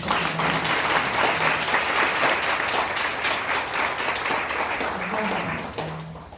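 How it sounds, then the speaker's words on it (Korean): Audience applause at a Korean book talk, a steady crowd of clapping hands filling the hall, thinning toward the end as a voice starts speaking. "한번 제가 소개할 때 박수로 감사합니다"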